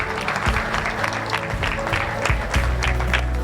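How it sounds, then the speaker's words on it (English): Audience clapping at a school ceremony for learners, cheering their peer rep chair: a steady patter of many hands with some louder bursts, a low hum beneath and faint voices mixed in. "Is that how we clap for our peer rep chair?"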